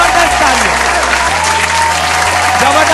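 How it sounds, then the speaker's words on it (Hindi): Loud, dense applause from an audience welcoming women achievers onto a stage at an empowerment event, steady clapping throughout with a voice heard over it. "जबरदस्त तालियां होनी चाहिए"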